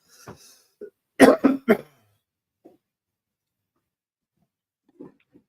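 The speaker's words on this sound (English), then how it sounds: "Sorry, I'm coughing." A few harsh coughs burst out in a quick cluster, close and fairly loud, with quieter throat sounds before and after amid long silences.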